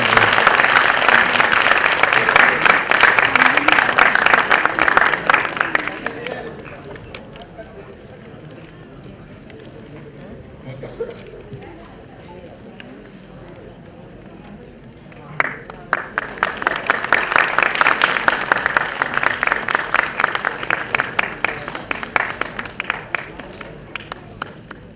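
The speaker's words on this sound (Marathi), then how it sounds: "या सर्वांसाठी एकदा जोरदार टाळ्या वाजवायच्या." An audience at a community get-together breaks into loud sustained applause, which fades to a lull before a second strong burst of clapping swells again near the end.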